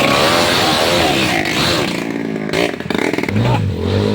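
A motorcycle with a holed exhaust revs hard and loud, a raw, rasping roar that surges and sputters with clattering bursts before settling into a lower throb toward the end.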